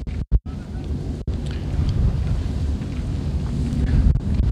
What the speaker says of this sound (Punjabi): ਹਵਾ ਬਹੁਤ ਚੱਲਦੀ ਆ, ਮੇਰੀ ਆਵਾਜ਼ ਹੋ ਸਕਦਾ ਰੁਕ ਰੁਕ ਕੇ ਆਵੇ